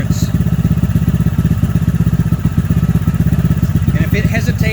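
Honda Grom MSX125 motorcycle engine idling close by after an air screw adjustment, a steady rapid low thumping pulse that holds even throughout, with a slight lift in pitch near the end.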